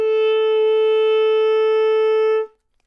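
A single sustained woodwind note, played with both thumb keys and all six fingers down, held steady and clear for about two and a half seconds before stopping cleanly, alone with no talk.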